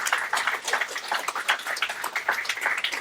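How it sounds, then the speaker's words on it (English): Audience applause at a live football talk event at the Tyneside Irish Centre, a steady crowd of clapping hands sustained throughout, moderately loud and filling the room. "round of applause"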